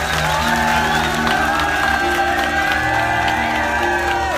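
An audience at a live Punjabi jagran performance, heard as a dense, loud, steady crowd wash of clapping and cheering over sustained music tones.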